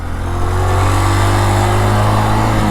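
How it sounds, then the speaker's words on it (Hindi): A motorcycle engine revs hard while held in first gear, a loud, steady, close drone with strong low rumble sustained throughout, building slightly at the start, with no talking. "पर बहुत गंदी आवाज़ कर रही है भाई बाइक"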